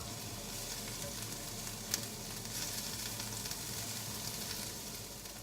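Cabbage, carrots and onions sizzle in a pan as they cook down, a soft, steady crackling hiss with one faint clink partway through, heard quietly and close with no talking.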